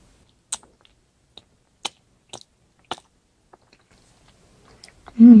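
Sharp, separate bites and chews from someone eating noodles with chopsticks, close up, spaced about half a second apart, with a short burst of voice at the very end.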